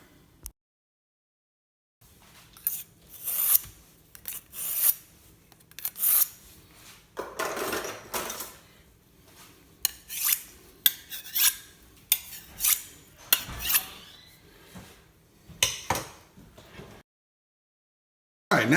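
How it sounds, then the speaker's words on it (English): A kitchen knife is drawn repeatedly across a sharpening tool while barbecue chicken is being prepared, giving a series of close, rhythmic raspy scrapes with short gaps between strokes and no talking. "I'm pause the video and I'm sharpening this knife."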